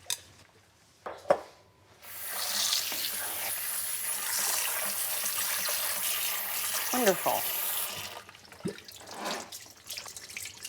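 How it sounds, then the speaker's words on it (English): Cold tap water runs into a sink as salted food is rinsed, a steady splashing rush lasting several seconds, framed by clinks of dishes before and after; a voice speaks briefly near the end. "rinse this and get the excess salt out in cold water"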